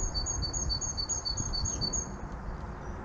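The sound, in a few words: great tit chirping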